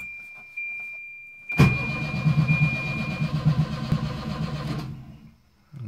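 A Volvo 240 with a turbo engine swap and a faulty wiring harness cranks without catching: a steady, loud, rhythmic starter churn lasting about three seconds, preceded by a faint electrical whine.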